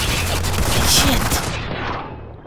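Shotgun blasts and other gunfire fill a firefight in the video game Spec Ops: The Line, loud and dense, with brief voices mixed in.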